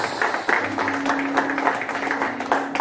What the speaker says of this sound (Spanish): ¿Cuántos le dan un fuerte aplauso al Señor en esta mañana?